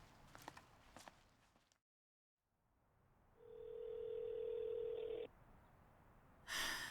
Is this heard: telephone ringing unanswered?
yes